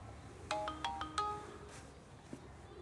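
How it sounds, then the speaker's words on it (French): A ringtone-style melody of several short rising electronic tones plays on a phone during an outgoing call, moderately loud, then fades out, with no speech. "moi j'appelle Claire et je te la passe."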